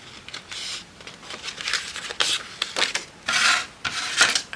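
A small ball tool scrapes and rubs across paper in short uneven strokes as it scores a fold line, close and fairly quiet with no talking.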